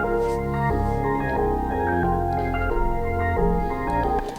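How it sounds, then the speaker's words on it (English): A Splice music sample is played reversed and pitched up, giving swelling backward notes over a dense, steady harmonic bed, loud and continuous with no talking. "I reversed it and I also changed the pitch of it"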